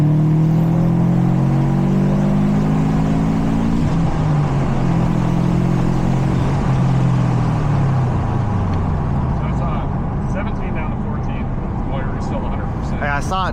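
A 2015 Subaru STI pulls hard at full throttle in third gear, engine note climbing steadily and loudly from inside the cabin before easing off. Occasional voices from inside the cabin come in near the end.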